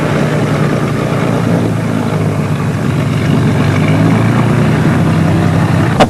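Twin-engine airplane engines powering up on a runway for takeoff, a loud, steady propeller drone with low engine hum that holds evenly throughout, no voices present.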